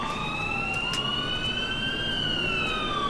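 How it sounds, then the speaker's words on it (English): A police car siren in the police game LCPD:FR wails steadily and loudly for the whole stretch, its rising and falling tone sweeping over a dense bed of traffic and engine rumble, with no talking. "Ah, but here's another police car."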